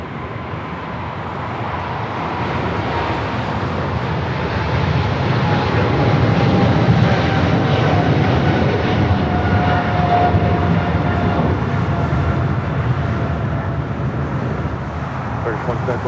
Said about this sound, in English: Japan Airlines heading back to Tokyo Haneda in the 777-300ER